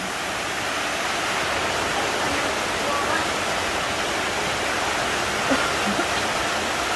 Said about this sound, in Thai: เดือดแล้วนะคะ เราก็รอให้มันเดือด